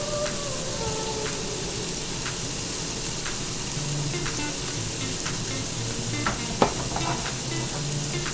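Hamburger patties sizzle and fry in a pan with steady crackling and hiss, faint and continuous, broken by a few small pops and one sharper clink.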